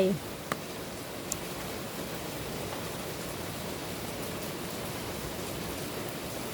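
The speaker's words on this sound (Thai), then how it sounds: "ช่วงนี้กำลังเป็น พายุเข้าฝนตกวันนี้ฝนตกทั้งวันเลย" Steady, dense hiss of heavy storm rain pours without pause, a broad wash of noise with a couple of faint clicks near the start.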